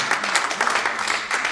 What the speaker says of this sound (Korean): 자, 그러면 박수로 축하합니다.